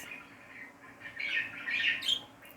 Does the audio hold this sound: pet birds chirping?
yes